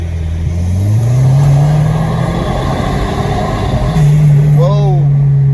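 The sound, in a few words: Audi car accelerating hard, engine revving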